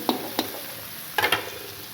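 Oil in a pan frying the base for a besan (gram flour) egg curry gives a steady soft sizzle, broken by a few sharp scraping stir strokes near the start and again after the middle.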